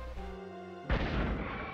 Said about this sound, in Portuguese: Vamos pôr uma bombinha.